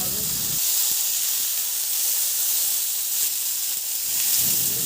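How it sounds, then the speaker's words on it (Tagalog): Garlic and onion sauté in hot oil in a pan, a steady broad sizzling hiss running close and loud throughout, with faint clinks of a utensil. "Igisa ko na rin yung sibuyas."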